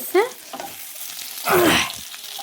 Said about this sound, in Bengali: আলুটাকে একটু ভালো করে ভেজে নেবো